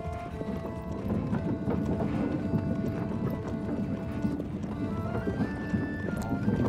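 Steady clip-clop of horse hooves against a busy Manor Lords game backdrop, with a horse whinnying near the end.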